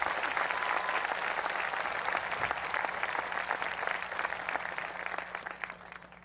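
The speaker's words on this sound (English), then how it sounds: "Let's give them a round of applause." Sustained applause from a large crowd, a dense steady clatter of many hands clapping throughout, tapering slightly toward the end.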